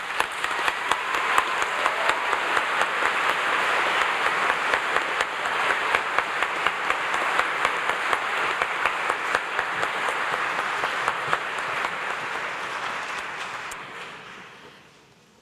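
Sustained applause at a 2015 graduation commencement, a large crowd clapping steadily at full strength before it fades out near the end.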